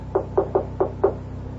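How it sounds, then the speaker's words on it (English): Five sharp knocks on a door in a radio drama, evenly spaced in a quick rhythm, close and distinct over a faint low hum. "Who knocks?"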